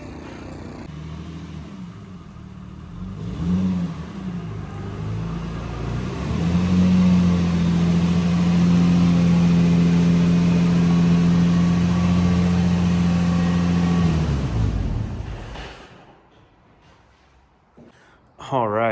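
A Nissan G35 on its first drive after a motor swap builds from a low idle into a loud, sustained engine drone held for several seconds close to the microphone, then dropping away quickly; a voice is heard at the start.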